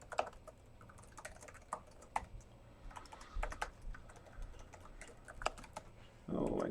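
Rapid typing on a computer keyboard during a live coding session, with irregular bursts of close key clicks, a fast clatter and a louder run of keystrokes at the end.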